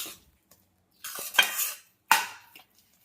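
A spoon scraping and stirring a sweet mixture with cardamom powder in a metal pan, two separate bursts of clattering scrapes against a quiet background, without talking.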